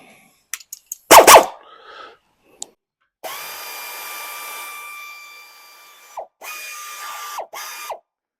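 A 1/2-inch ratchet loosens brake caliper bolts on a truck parked for over 15 years, with a loud clank first, then sustained close ratcheting bursts broken by short pauses.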